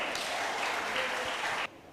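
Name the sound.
audience applause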